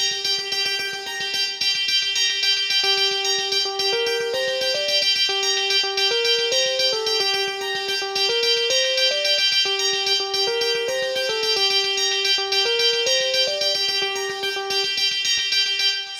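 Drums kick in beneath layered distorted guitars in a track recreation, a bright sustained note stepping through a short repeating melodic figure over a driving steady beat, loud and continuous, no voices.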